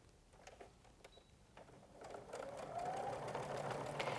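A sewing machine stitches pieces for a quilt built from equilateral triangle units, its motor whirring at a steady rhythm that grows louder and more continuous after the first two seconds, close and with no talking.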